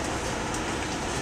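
Rumbling rail car noise inside an NJ Transit train riding between Plainfield, Netherwood and Fanwood, a steady broadband roar and rattle with no talking.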